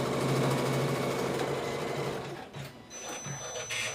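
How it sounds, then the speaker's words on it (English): A sewing machine stitches a tooth onto a fabric mouth for a spooky seasonal piece, its needle whirring in a steady fast mechanical rhythm before slowing and stuttering into a few uneven clicks near the end. "look, it's sewing the tooth in the mouth."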